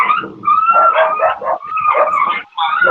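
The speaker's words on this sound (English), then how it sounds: "Dog," A dog barking and yipping close by in a quick run of sharp, loud barks with a brief whine between bursts.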